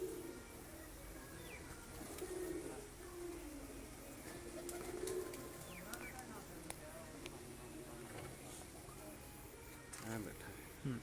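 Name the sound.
pigeons cooing on rooftop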